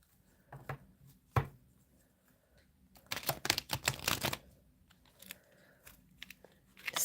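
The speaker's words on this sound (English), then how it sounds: "Let's have a few shuffles." Tarot cards from a Viking Runic Tarot deck being shuffled by hand, a few soft riffling bursts followed by a louder, denser run of crisp card flicks and slaps, close up with no talking.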